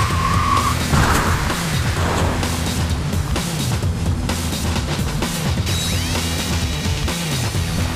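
Car chase in FISH: Florida Investigation Squad with loud engine roar and repeated tire skids and squeals, a sustained dense racket with a brief siren-like tone early on.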